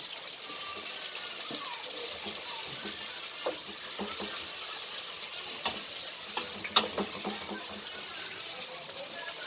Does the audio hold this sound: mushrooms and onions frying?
yes